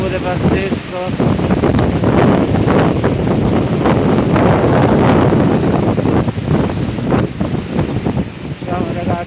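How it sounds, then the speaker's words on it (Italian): Strong storm wind by a rough sea, a loud steady roar and gusting buffet against the microphone lasting the whole stretch, with someone speaking over it. "un vento pure pazzesco"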